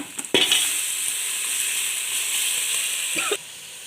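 Ground masala paste drops into hot oil, with chilli powder, for a fish curry, setting off a loud hiss and sizzle that holds steady, framed by brief clinks of a spoon against the pan at the start and end.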